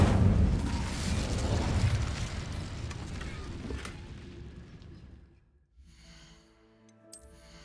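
An Incendio fire spell cast in Hogwarts Legacy bursts out as a loud, broad roaring whoosh of flame that slowly fades over several seconds into quiet, leaving soft game music and chimes.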